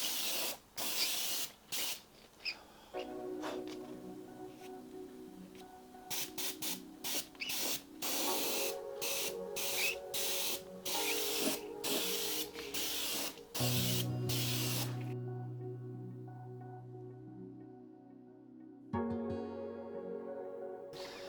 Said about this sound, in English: you see it's spraying nicely. So let's just spray this up.